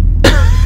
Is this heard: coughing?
yes